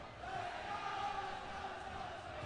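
A crowd at a varsity girls' volleyball game against Francis Howell Central rumbles and cheers faintly in the distance, a steady mass of voices without distinct words.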